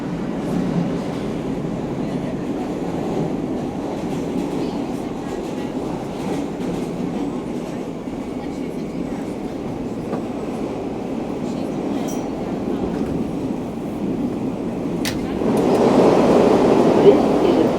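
Brooklyn-bound R local train on the New York City subway rumbling along the tracks with a steady low drone and clicking wheels, growing louder toward the end, while people talk nearby.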